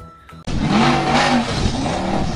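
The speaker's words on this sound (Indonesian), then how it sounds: "Wow, ada mobil off-road." A toy off-road car's engine revving in one short, rising burst that starts abruptly after a brief quiet moment and holds loud and close.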